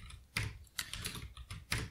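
A computer keyboard clacks close up during programming work, with a few uneven bursts of keystrokes separated by short pauses.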